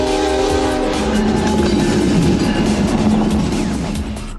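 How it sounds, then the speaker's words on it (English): A loud, close blast from a train horn system mounted on a tow truck, with strong harmonic tones in the first second, followed by a roaring rumble that slowly fades. "This is the baddest, loudest train horn system on the market."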